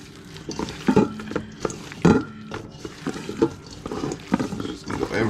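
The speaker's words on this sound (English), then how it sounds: "Go ahead and just mix it up by hand." Seasoned meat being mixed by hand for a family barbecue, giving close, wet squelching and slapping bursts in an irregular rhythm with a few soft knocks against the bowl.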